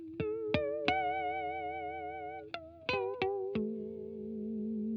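Electric guitar harmonics through a Behringer UV300 Ultra Vibrato pedal ring out as bright plucked tones with a wavering vibrato, several notes struck in sequence and left to sustain.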